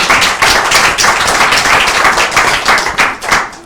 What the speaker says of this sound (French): Frappe, frappe, frappe, applaudissez.